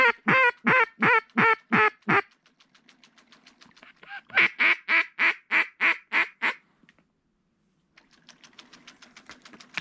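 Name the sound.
pintail ducks calling in fog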